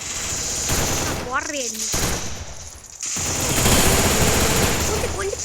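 Automatic weapon fire in a shooter video game, with an MP40 and UMP mentioned, dense loud continuous gunfire bursts under someone talking excitedly, with brief pauses between volleys.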